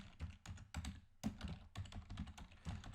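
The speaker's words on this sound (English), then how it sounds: "So let's just type in a title for our analysis." Fingers type quickly on a computer keyboard, a fast, irregular run of close, soft key clicks with a few louder strokes, with no talking.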